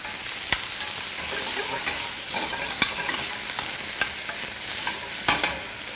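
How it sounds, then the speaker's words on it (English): Shallots fry in a hot pan with a dense, continuous sizzle and crackle, broken by occasional sharp clicks of stirring against the pan. "Can you hear that sizzling sound over there?"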